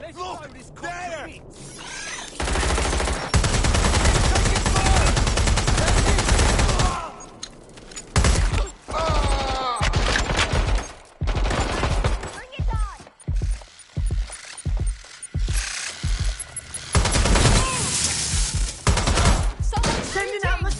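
Bursts of gunfire in the video game Watch Dogs Legion, with loud, dense volleys and rapid shots. They come in clustered runs separated by brief pauses, mixed with game effects and voices talking.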